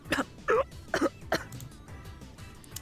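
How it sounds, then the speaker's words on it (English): A character in the DRAMAtical Murder visual novel game coughs in four sharp, close bursts, each quick and harsh, then quieter breathing noise follows with no speech. "I take a breath and immediately start coughing."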